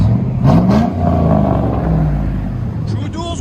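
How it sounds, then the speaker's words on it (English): A 2004 GMC Sierra 4.8L V8 with true dual exhaust, an X pipe and 4-inch tips revs up with a rising growl, then drops back to a deep, steady rumble nearby. "True duals with an X pipe, 4-inch tips."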